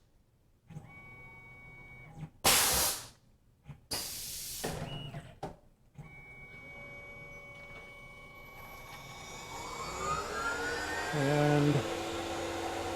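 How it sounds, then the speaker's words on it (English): A Tormach PCNC 1100 CNC mill runs a half-inch end mill that flings cutting fluid, bursts of loud spray hiss followed by a rising whine of the spindle, with a brief spoken word. "the old half-inch end mill flings the cutting fluid"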